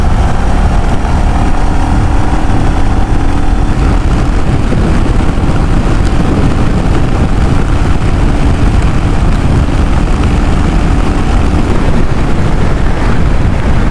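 A Royal Enfield Classic 350 motorcycle runs flat out in fourth gear on a highway, its steady engine drone buried under heavy, continuous wind rush across the microphone for the whole stretch.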